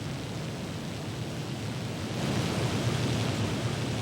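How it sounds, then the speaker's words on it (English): Upper Yosemite Falls crashes down glacier-carved granite, a steady broadband roar that swells louder midway, continuous and close with no voices. "Down these glacial sculpted rocks thunder some of the world's most spectacular waterfalls"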